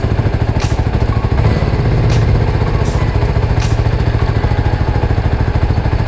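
A CFMOTO 300SR motorcycle engine, just repaired for an idle stalling fault, runs steadily up close. Its rapid, even exhaust pulses carry a few short throttle blips. The engine sound stands alone with no talking.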